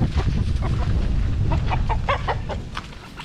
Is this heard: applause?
no